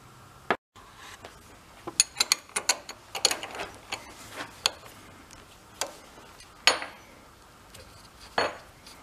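Tools and metal parts clink and tick in sharp, irregular taps while a mud-clogged fuel fitting is worked loose on a 45-year-parked barn-find MG TD, with close, scattered clicks and no talking.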